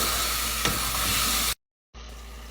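Tomatoes with turmeric, curry spice and chicken stock stirred in a sizzling pan, a steady close frying hiss with a faint scrape, cutting out briefly before resuming.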